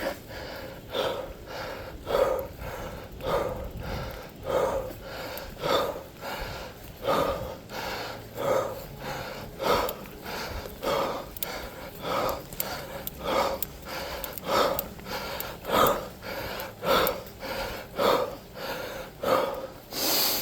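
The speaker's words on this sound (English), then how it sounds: "I need to focus on breathing." Heavy, rhythmic breathing from a rider mountain biking on a wet trail at Hunters Creek, with steady forceful exhales repeating about once a second, close to the microphone over low rolling noise.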